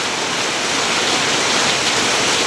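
Flood water that has risen up from a pond and into a house, heard as a steady loud rushing roar that stays constant throughout, with no voices.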